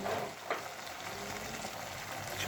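Tomatoes frying in a pan for Jain-style paneer bhurji made without onion or garlic, a soft continuous sizzle with a light stir near the start and another at the very end, no voices.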